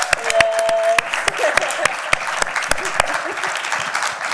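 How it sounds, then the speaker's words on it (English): Audience applause for Lise at a Q&A talk with a filmmaker, a steady crowd of clapping with sharp individual claps standing out, while a voice speaks over it. "So just thank you for giving her that round of applause."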